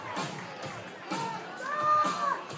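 A rugby stadium crowd cheers and roars after a Black Ferns try, a broad, steady wash of massed voices that swells toward the end, with a whistle-like tone rising above it partway through.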